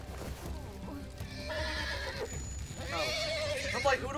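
A horse in the video game The Walking Dead: Final Season lets out a loud, shrill whinny with hoofbeats clopping beneath it. Tense voices speak around the neigh.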